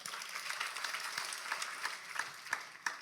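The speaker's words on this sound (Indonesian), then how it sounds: "Tepuk tangan dulu boleh." Congregation applauding during a church sermon, a steady wash of many hands clapping with several sharper, louder claps standing out near the end.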